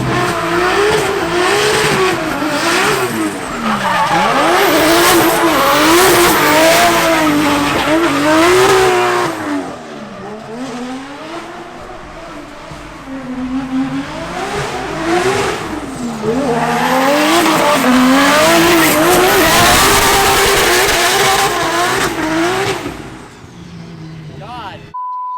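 A drift car engine screams through long revving pulls at a drift event, its rising and falling pitch running under heavy tire squeal. There is a brief lull mid-run, then another loud burst, and people talk over it.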